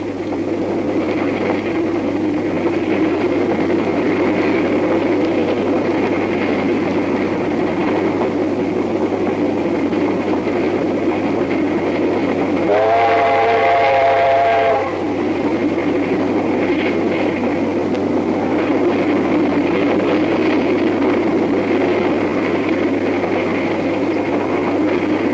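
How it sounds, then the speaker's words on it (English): Big oil-burning steam locomotive pulling a heavy train onto the main line, a loud continuous rumble and roar with a whistle sounding for about two seconds midway. "As the driver eases the heavy train through the points and out onto the main line"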